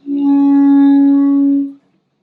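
A saxophone holds a single steady overtone for about a second and a half, clear and loud with bright harmonics, then stops cleanly into silence.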